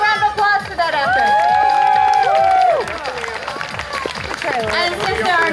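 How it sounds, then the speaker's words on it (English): An audience applauds at a jousting event, with scattered clapping and cheering under loud, excited voices and whoops from the crowd, fairly near and busy throughout. "let's give him a round of applause for that effort"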